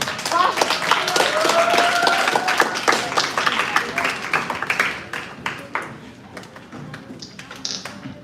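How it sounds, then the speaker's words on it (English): An audience claps in welcome for a student speaker at a school speech contest, a dense burst of many hands that stays loud for several seconds, then thins into scattered claps and fades. "Let's welcome her with a warm round of applause"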